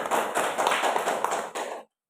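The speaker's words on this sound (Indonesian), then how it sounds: "Tepuk tangan dulu." A classroom of students at an Islamic primary school clap their hands together in a dense burst of applause, loud and close, before the noise cuts off abruptly near the end.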